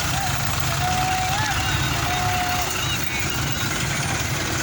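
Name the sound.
Russian tractor engine after pulling out of the mud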